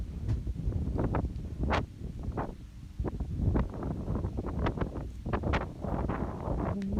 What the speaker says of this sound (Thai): ลมแรงจริงๆ